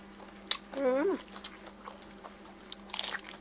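Someone eats spicy papaya salad with fermented fish sauce, blanched squid and shrimp, with close biting and wet crunching chews, a brief voiced murmur early on and soft talk in the background.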